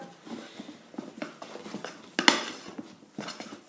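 A utensil scrapes and taps against a pan as choux pastry dough dries over heat, giving an irregular series of close clinks and knocks with one sharper clatter.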